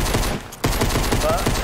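Rapid bursts of video game gunfire fill the short stretch, dense repeated shots before and after a brief lull, loud and close.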